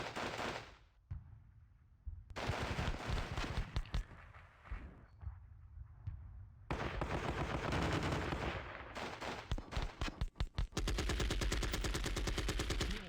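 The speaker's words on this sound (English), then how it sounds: "Sounds like a machine gun here." Machine gun fire in the Panzer Battles Normandy war game comes in repeated rattling bursts, some near and loud, some farther off, separated by brief quieter gaps, ending in a long sustained burst.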